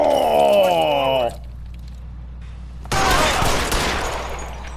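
Gunfire rings out in the video game L.A. Noire: a loud burst of shots, a short lull, then another harsh, noisy volley that slowly fades.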